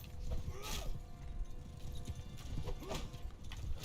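Horses in a video game cavalry unit clop along in a steady hoofbeat rhythm, with a faint whinny, moderately quiet over low background noise.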